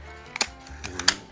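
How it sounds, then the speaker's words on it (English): A BB is loaded into the breech of a crude toy BB gun, making a few quick, light clicks and taps close by, faint and without voices. "take your BB and actually load it into the breech"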